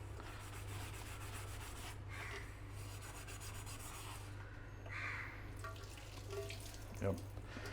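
Scrubbing black soot off campfire cookware, a rough rubbing and scraping in short bursts over a steady low hum and faint background noise.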